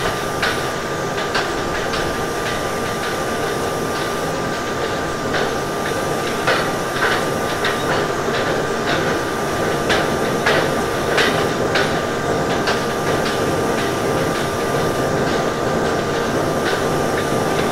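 An Indian suburban train runs through Mumbai near Masjid station in the Open Rails train simulator, with a steady rumbling roll and repeated clacks of wheels over rail joints throughout and a constant tone on top.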